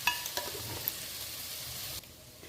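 A tomato and chili powder paste sautés in a pan with a soft continuous sizzle and a few light stirring taps near the start, then drops quieter at the end.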